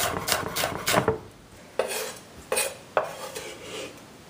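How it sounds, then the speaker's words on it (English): A knife cuts small poquito peppers on a board, a few quick chopping knocks at first, then a handful of separate firm cuts with pauses between them, close by and unaccompanied by speech. "these little poquito peppers. I'm just going to cut them in half"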